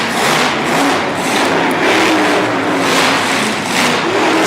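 A big square-body racing truck's engine revs loud and close on a dirt arena floor inside the Pennsylvania Farm Show Complex, a steady roaring drone with rising and falling swells throughout.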